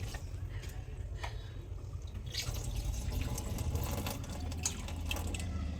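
Water poured off rice being rinsed in a home kitchen, a soft continuous splash and trickle with scattered drips, close but fairly quiet.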